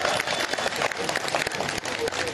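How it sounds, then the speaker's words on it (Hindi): A hall audience at an Urdu book fair claps steadily and fairly loudly after being urged on, a dense continuous patter with a few faint voices mixed in. "ताली में दम नहीं है, जोर से बजाइए"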